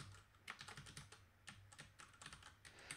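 Rapid keystrokes on a computer keyboard while creating a PHP file for a Zend Expressive project, a close, steady run of clicks and taps with short pauses and no talking.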